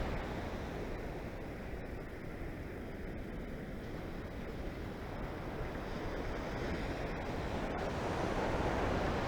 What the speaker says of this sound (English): Got some nice waves coming in.